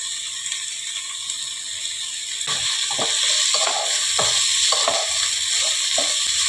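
Rice frying in a pan for paneer pulao, a constant sizzle that grows louder partway through, then a run of rhythmic scraping stirs about twice a second; no talking.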